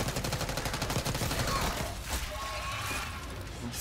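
Gunfire in Call of Duty Black Ops 6, with rapid dense bursts up close that ease off partway through into a lower rumble and scattered shots.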